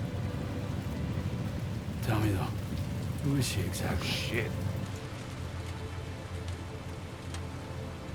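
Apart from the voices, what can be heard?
rain in video game Death Stranding 2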